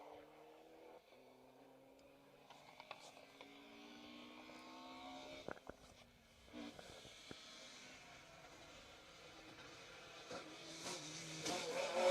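Car 74 drives a rally special stage near Loch Tuath in the Western Isles in sticky rain with its wipers on. The engine revs and shifts gears at a distance, heard faintly over steady wet ambience.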